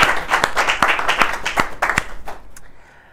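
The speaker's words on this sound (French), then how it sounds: "On peut l'applaudir et l'encourager" Audience applause as a woman named Mathilde is invited up to a coaching event stage: a burst of clapping with sharp individual claps standing out, steady for about two and a half seconds, then thinning and fading.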